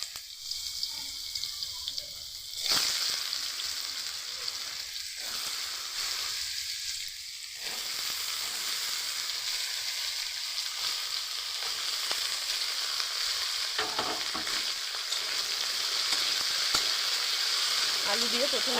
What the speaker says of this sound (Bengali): আলু দিয়ে প্রথমে একটু নেড়ে নিচ্ছি